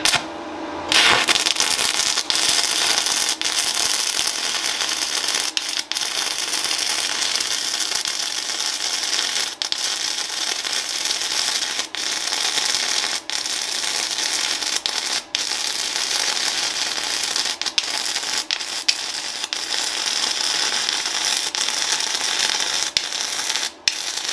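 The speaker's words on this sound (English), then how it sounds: "let's go ahead and switch the machine over to DC electrode negative and run the electrode 7014 running on the negative side." Stick welding with a 7014 electrode on DC electrode negative using a WETOLS ARC160 dual voltage stick welder, a loud continuous crackling, sputtering arc with occasional sharp pops, running steadily and close without talk.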